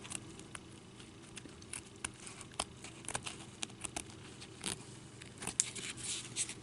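Scissors cut along the edges of paper for handmade Christmas kitten gift tags, with quiet, irregular snips and crinkles close by and no talk.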